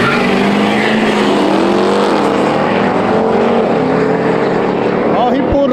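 A Duramax diesel pickup races a Ram TRX, with loud, continuous engine roar close by and rising and falling revs as they accelerate, over a dense crowd and wind noise.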